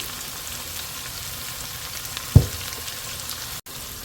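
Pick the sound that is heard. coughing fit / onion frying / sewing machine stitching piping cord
onion frying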